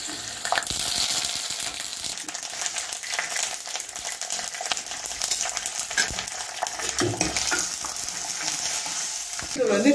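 Dried red chilies roast in a pan for tamarind kojji, giving a steady bright crackling sizzle with frequent scraping stirs and occasional clinks of a utensil against the pan, close and continuous for the whole stretch.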